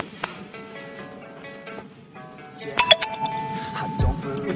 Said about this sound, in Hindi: मैसेज आ रहा है लेकिन बाद में देखेंगे हम